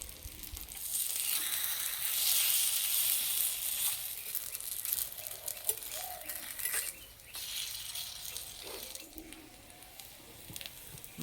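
Semolina and vegetable snacks fry in hot oil, making a soft continuous sizzle and crackle with faint bubbling and occasional light clicks, fairly quiet and steady throughout.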